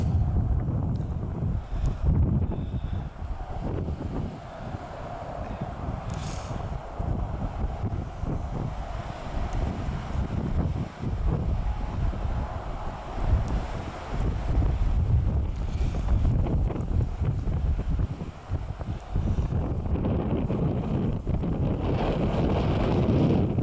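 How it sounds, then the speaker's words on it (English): Gusty wind roars steadily across the microphone on a rocky hiking trail near Lehigh Gap, Pennsylvania, loud and continuous with buffeting rumbles and no talking. "Bit breezy."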